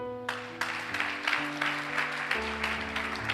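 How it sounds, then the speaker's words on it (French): A church congregation applauds during a worship service, with scattered clapping building into a steady patter over sustained organ or keyboard chords. "Est-ce qu'on peut acclamer Madame Kouya?"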